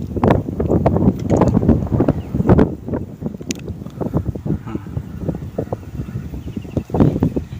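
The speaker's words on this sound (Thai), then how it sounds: "ลมแรงนิดหนึ่งเนาะ" Strong wind sweeps across a dry rice field, buffeting the microphone with loud, gusty, low rumbling that rises and falls throughout.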